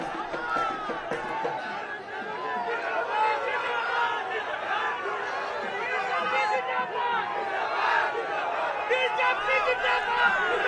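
Large crowd at Prime Minister Modi's roadshow in Guwahati, Assam, chanting and shouting slogans, a dense continuous roar of many voices with babble and rhythmic calls throughout, steady and fairly loud.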